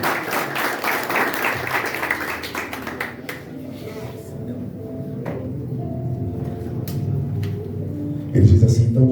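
A church congregation applauds loudly for a few seconds, the clapping fading out into quiet murmurs and low organ-like tones before another brief swell near the end.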